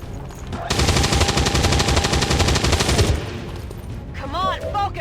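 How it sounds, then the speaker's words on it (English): Sustained rapid automatic gunfire from the video game XCOM 2: War of the Chosen rattles loudly for about two and a half seconds, then breaks off into softer electronic whooshing effects. "Weapons burning ammo fast!"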